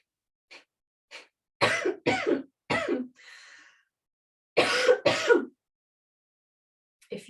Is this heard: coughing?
yes